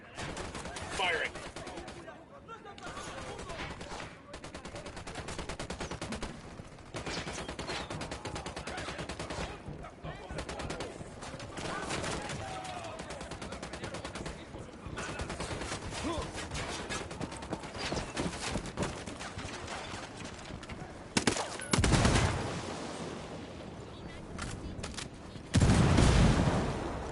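Gunfire in the tactical shooter Ghost Recon Wildlands: dense bursts of rapid shots and scattered cracks over a busy background, with louder heavy bangs near the end.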